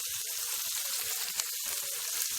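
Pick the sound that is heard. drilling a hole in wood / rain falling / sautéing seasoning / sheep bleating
sautéing seasoning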